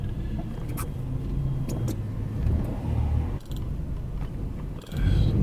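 A car drives along with steady road and engine rumble, with a couple of brief dips and a louder swell near the end as a vehicle passes.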